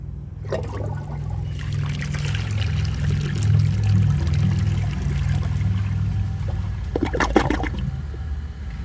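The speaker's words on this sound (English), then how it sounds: "A toilet with a flush this weak is not going to pass the bag." A 2001 Eljer Canterbury toilet flushing with a grocery bag in the bowl gives a steady rushing, gurgling flow that swells and lasts several seconds, close and loud, with a brief clunk near the end.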